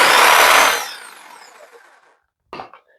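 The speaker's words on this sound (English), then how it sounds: "My jigsaw." A corded jigsaw runs loudly in a workshop for under a second on a DEWENWILS extension cord reel, then winds down with a fading whir before a short handling knock.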